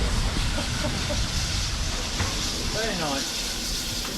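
A 1953 Hunslet-built steam locomotive, No. 25 Northiam, on a heritage railway, hissing steam in a continuous loud wash with rumbling mechanical noise, while faint voices are heard in the background.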